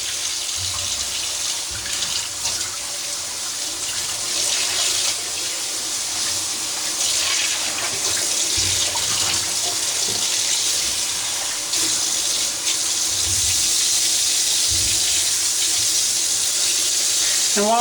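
Running water rinses freshly black-dyed jeans in a bucket, a steady close hiss and splash that continues unbroken throughout with small shifts in flow and no talking.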